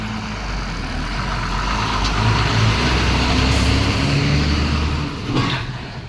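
A red MSRTC state transport bus pulls away after rain, its diesel engine rumbling loud and close. The drone swells as it moves off and stays steady with slight surges, and no voices are heard.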